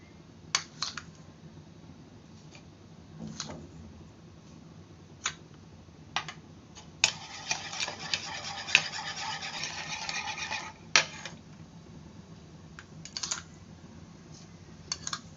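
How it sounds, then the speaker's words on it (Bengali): Sugar is stirred into beaten eggs for pudding, producing scattered clinks and taps of a utensil against a bowl and then a few seconds of steady scraping and rubbing, close and fairly quiet, with no talking. "এখন আমি এখানে চিনি মিক্স করব।"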